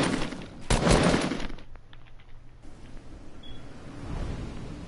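Drum gun firing in a video game, a dense burst of rapid automatic shots up front, then scattered quieter shots and game ambience, close and loud with no talking.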